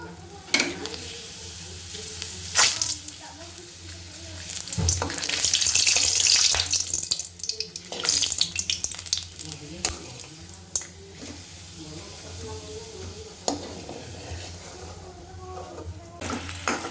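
Potato and pointed gourd sizzle steadily in a hot pan after papad frying, with bursts of louder crackling, stirring scrapes and occasional clatter, close and continuous.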